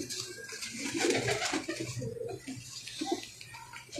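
Many Sialkoti jaunsari pigeons coo softly and continuously nearby, their low throaty calls overlapping amid light rustling and fluttering.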